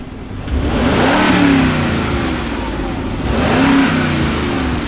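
A deep, throaty Mercedes G550 engine on its stock exhaust revs up twice, rising and falling in pitch, loud and close with a full exhaust roar.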